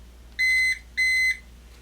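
A Kwikset Powerbolt 2 electronic keypad lock gives two clear, even electronic beeps of equal length, loud and close, separated by a short gap, with no talking.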